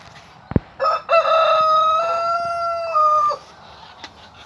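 A Jersey Giant rooster crowing close by, with one long drawn-out cock-a-doodle-doo held for about two seconds, preceded by a sharp knock and a short cluck, then quiet.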